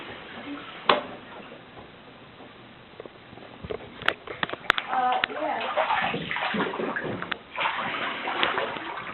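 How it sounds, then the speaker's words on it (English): Water about 18 inches deep floods a basement, giving an uneven splashing and trickling with sharp clicks and knocks. Someone talks over it. "This is about 18 inches of water in the basement."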